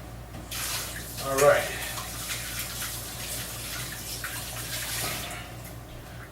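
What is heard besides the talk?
water running from tap while rinsing hands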